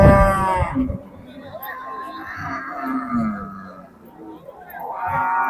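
A Holstein Friesian bull lows at a busy rural cattle market where animals are sold ahead of Qurbani, its deep call rising among steady crowd chatter and nearby voices.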